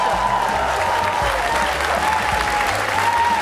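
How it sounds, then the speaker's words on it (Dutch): Audience at a Dutch year-end comedy show at the Melkweg breaks into sustained, dense applause, steady and loud throughout, with a faint tone drifting above the clapping. "Mag ik een hartelijk applaus voor Marije?"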